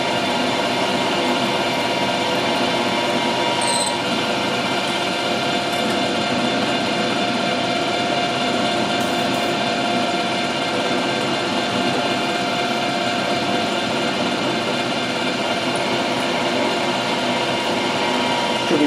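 Aluminium being cut on a machine with WD-40 as cutting lubricant, a steady, loud, dense mechanical grind that runs unbroken and close for the whole stretch with no talk.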